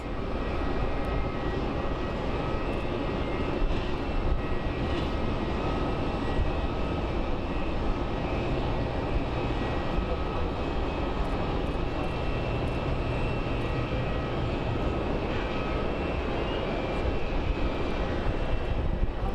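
Airplane at Phoenix Sky Harbor International Airport, engines producing a steady, broad roar that holds at constant loudness for the whole stretch, heard from a distance with wind present and no talking.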